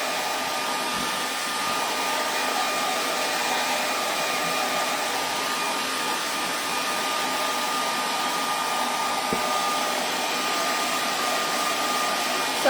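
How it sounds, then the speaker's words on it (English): Hair dryer blowing steadily and loudly throughout, used to dry paint on a rustic Uncle Sam porch hanger craft project; a constant airy whir with no talking. "hairdryer time again. So turn your sound down."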